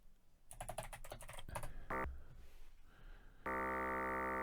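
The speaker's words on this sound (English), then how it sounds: "Not typing the right word for the right thing." Rapid bursts of close computer keyboard typing, a short pause of clicks, then a steady electronic buzzing tone takes over at the end.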